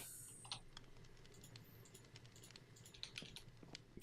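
Quick, uneven typing on a computer keyboard, close-up but quiet, with light key clicks pattering over a soft background hum.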